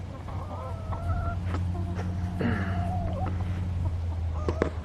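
Newly acquired chickens let out of their makeshift pen during the day cluck and murmur close by, with short repeated calls over a low steady hum.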